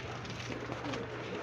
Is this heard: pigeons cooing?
yes